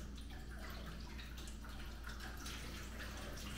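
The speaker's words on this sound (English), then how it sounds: "Just rinse the surface of the print." Water running over the surface of a gum over platinum print during rinsing, a steady close splashing and trickling wash that lasts throughout with no talk.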